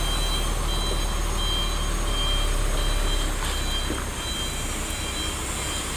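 A trailer truck fully loaded with cement reverses, its backup alarm sounding a steady run of evenly spaced beeps over the low rumble of the idling engine.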